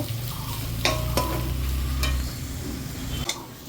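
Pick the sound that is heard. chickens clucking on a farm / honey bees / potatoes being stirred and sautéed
potatoes being stirred and sautéed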